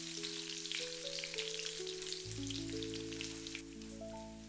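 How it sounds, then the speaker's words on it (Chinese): Pork belly stir-frying in a wok with slices of ginger and garlic, a steady dense sizzle under soft background music, faint and without speech. "接下来加入切好的姜蒜片，快速翻炒均匀，把姜蒜炒出香味"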